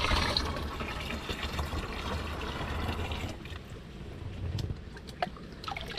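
Spring water flows and splashes steadily nearby, a continuous rushing trickle that eases slightly toward the end, with no voices.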